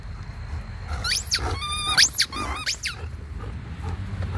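A squeaky toy gives several quick, high, rubbery squeaks in a short burst, sounding close, over a low background rumble.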